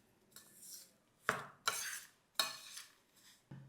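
Dry ladoo mixture being stirred into a warm jaggery mixture with a utensil, giving several separate scraping, clinking strokes against the pan, close and fairly quiet, with short pauses between.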